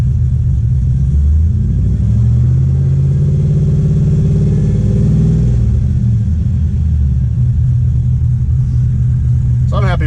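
A car engine with Amsoil oil revs up high, a rising and falling mechanical rumble lasting several seconds before dropping back, heard loud and close.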